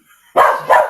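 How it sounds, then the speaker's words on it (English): A pet dog, the female family dog settled under her owner's leg at home, barks twice, loud and close: a sharp bark, then a second slightly softer one a moment later. "started barking while she was still underneath my leg"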